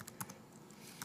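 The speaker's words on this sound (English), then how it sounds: "if I just start typing" Quiet, close keystrokes on a computer keyboard, a few sharp clicks spaced irregularly across about a second, alone without talk.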